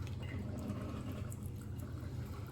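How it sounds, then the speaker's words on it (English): Red wine vinegar pours steadily into a bowl for a ground turkey meatloaf, a soft continuous liquid trickle, quiet and close, with no talk. "pour the red wine vinegar in there"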